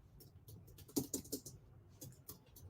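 Soft, irregular tapping of keys on a computer keyboard, a quick uneven burst of clicks, faint and close, with no talking over it.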